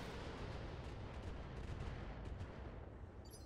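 Missiles striking in BattleTech, a dense rolling barrage of explosive impacts that keeps up a steady, loud rumble with crackling bursts throughout, no voices over it.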